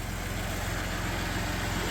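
The 1991 Dodge Caravan's engine, revived after 19+ years, runs at a steady idle, a continuous low rumbling drone with mechanical rattle, close and loud, with no talking.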